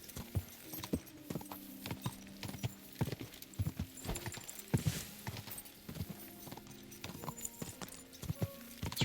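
Horse hooves clip-clop at a walking pace in Kingdom Come Deliverance 2, a medieval video game, with a steady rhythm of sharp, close hoof strikes and a brief whinny, no talk.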